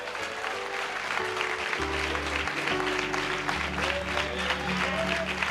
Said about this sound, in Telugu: నిజంగా అతని కోసం మనం ఒకసారి బంగారం మేషారి కోసం చప్పట్లు కొట్టాలి